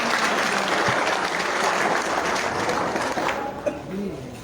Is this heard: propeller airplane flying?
no